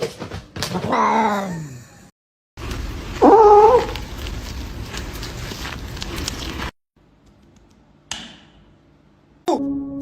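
A cat meows a couple of times up close, separated by noisy pauses and abrupt cuts, with a short clunk and another sound near the end.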